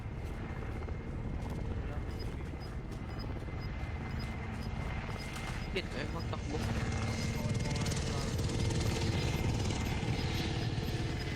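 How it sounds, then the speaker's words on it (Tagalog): Several helicopters in Warzone 2 thrum overhead as a steady rotor drone and engine rumble, building slightly louder later, beneath game sounds and players talking. "Ang daming helicopter ah."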